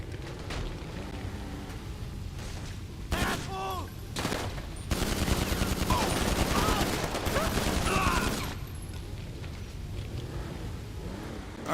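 AP pistol gunfire in GTA 5 Online, with a dense burst of rapid shots over several seconds in the middle, set against steady city background noise.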